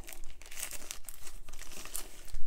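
Paper packaging of an art supply order crinkles and tears close by in a series of short, rough rips, with no voices.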